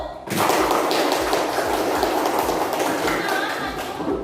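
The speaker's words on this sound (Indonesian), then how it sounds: "silakan beri tepuk tangan dulu untuk kelompok 1" Audience clapping for the first presentation group at a teacher performance assessment session, a loud, dense burst of hand claps that starts abruptly and carries on steadily close by.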